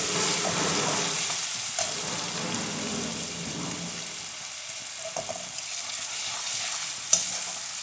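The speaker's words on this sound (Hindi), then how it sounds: "अदरक और मिर्च का पेस्ट, ये भी मिला लेंगे और इसे थोड़ा सा भून लेंगे" Ginger and green chili paste frying in a pan, a steady close sizzle running throughout with occasional soft spoon scrapes and one sharper clink near the end, no speech.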